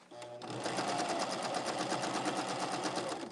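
A sewing machine stitches a quarter-inch seam along a quilt border, starting with a click and then running steadily at a fast even rhythm, close and clear, without pause.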